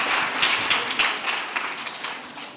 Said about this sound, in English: Can we give another round of applause for this?